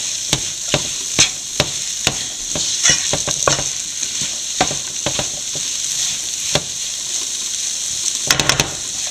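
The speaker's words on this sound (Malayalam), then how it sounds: "കുറച്ച് കറിവേപ്പിലയും കൂടെ ഇട്ട് നല്ലപോലെ എല്ലാം കൂടെ ചേർത്ത് ഇളക്കുക" Jackfruit seeds stir-fried with curry leaves in a pan: a constant loud sizzle with sharp scrapes and clacks of the stirring spoon at irregular intervals, ending in a quick cluster of taps.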